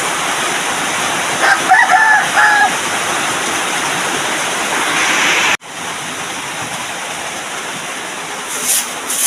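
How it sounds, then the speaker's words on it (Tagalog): Heavy rain roars steadily throughout while a rooster crows in the distance; the downpour continues after a brief dropout midway. "Kusog kayong susumat sa ulan."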